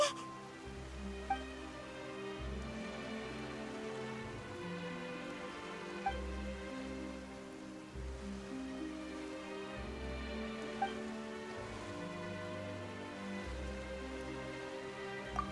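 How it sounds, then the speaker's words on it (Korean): Sudden rainfall in Genshin Impact patters as a steady wash of drops over a low, pulsing game music bed, with a few brighter splashes, and no speech. "갑자기 비가 오네."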